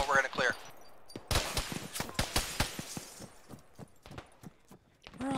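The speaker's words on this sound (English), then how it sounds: "Where are all these shots coming in from?" Sharp gunshots crack through an Arma firefight around a town, coming in irregular bursts and single reports at mixed distances, with voices talking over the shooting.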